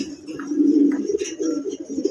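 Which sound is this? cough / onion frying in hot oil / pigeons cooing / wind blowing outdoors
pigeons cooing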